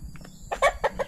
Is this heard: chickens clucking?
yes